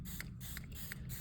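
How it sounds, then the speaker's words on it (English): A small spray bottle misting water onto air plants gives three quick, soft hissing puffs, close and quiet, with the faint click of the trigger between them. "I just use a like little spray bottle here, just to give them a spray"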